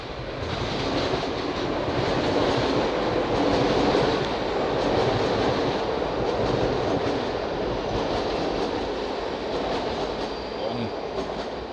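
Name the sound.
long train passing through tunnel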